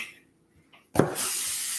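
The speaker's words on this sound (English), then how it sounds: "So this is about how much I spray on. I don't know if you can actually see the white mist on there, but that's olive oil spray." After a moment of near silence, olive oil cooking spray bursts onto aluminum foil as a loud, close, steady hiss that carries on to the end.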